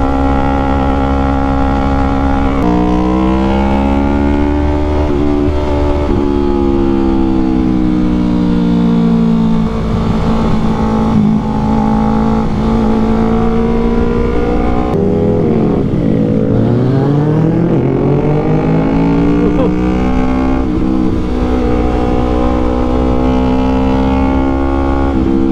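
A Yamaha R3 motorcycle fitted with an Akrapovic full exhaust system revs loudly and close up, its tone rising and falling through repeated throttle blips for the whole stretch with no pauses and no speech.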